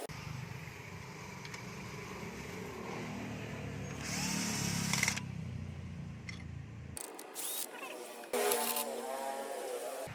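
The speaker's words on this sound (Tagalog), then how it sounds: "We use a power handle for ease of removal." A power tool buzzes steadily while removing engine support bolts on a Peugeot 307, running loud and close in bursts with mechanical whirring and brief pauses between.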